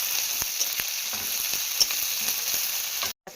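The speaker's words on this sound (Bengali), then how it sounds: "পেঁয়াজটা আমার ভাজা ভাজা হয়ে গেছে" Onion and garlic fry in oil with a steady close sizzle, broken by soft stirring clicks and a brief scrape near the end before a sudden cut to silence.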